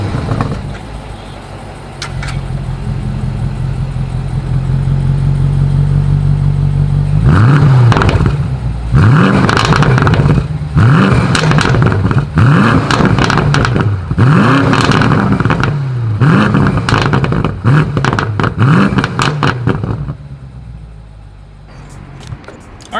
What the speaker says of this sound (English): put it in sport driving mode here, and you guys will hear all of the wonderful crackle that comes with the M850i